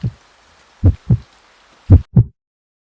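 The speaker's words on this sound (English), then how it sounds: "my heart beating so fast?" A heartbeat in close, loud paired thumps, two double beats with a lone beat before them, heavy and low against near silence.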